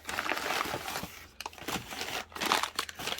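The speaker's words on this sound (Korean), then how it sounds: "다육이랑 화분 한번 언박싱 한번 해볼게요. 우선은 다 풀러보고" Packaging around purchased succulent plants and pots is unwrapped close up, with bursts of crinkling plastic and paper rustles broken by short pauses, fairly quiet and without talk.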